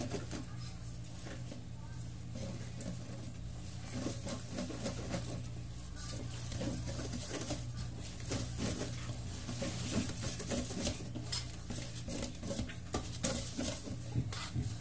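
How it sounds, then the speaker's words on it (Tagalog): A spoon slowly stirs thick homemade brownie batter in a mixing bowl, giving faint, steady soft scraping and wet swishing against a low background hum. "Dahan-dahan lang muna ang halo para hindi siya magtalsikan."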